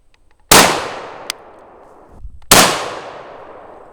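Two loud, sharp gunshots from a Steyr USR AUG bullpup rifle, about two seconds apart, each with a ringing outdoor decay and a brief metallic clink between them.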